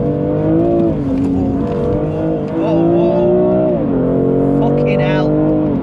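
A BMW M2 Competition drifts sideways, its engine roaring loud and close with the revs rising and falling as a driver exclaims over the noise.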